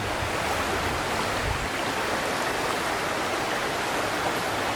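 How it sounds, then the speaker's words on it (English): A river in Oak Creek Canyon near Sedona, Arizona flows steadily down the autumn valley, a constant broadband rush of water, even and moderately loud, with no voices or other sounds. "The river ebbs and flows down the valley."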